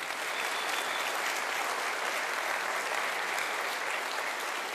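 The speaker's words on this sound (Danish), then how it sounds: "skal det ikke lige have et ekstra bifald for det" Studio audience at a Danish television sing-along show applauding the guests, dense and sustained clapping that stays loud and even throughout.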